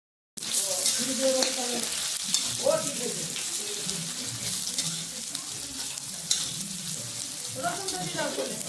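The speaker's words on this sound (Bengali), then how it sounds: "আর এদিকে পেঁয়াজ রসুনগুলো ভাজা ভাজা হচ্ছে।" Chopped onions fry in hot oil in a kadai, whose steady hissing sizzle starts abruptly and runs through the clip, with utensil clatter and stirring noises layered on top.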